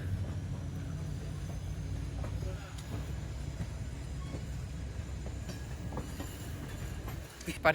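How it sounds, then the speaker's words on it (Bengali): A Guwahati-bound train rumbles past at a steady distance, a continuous low roar with faint rhythmic clatter, with some indistinct voices in the background. "এখন এদিকে আমরা ট্রেনও যার গিয়া গুয়াহাটির ট্রেন"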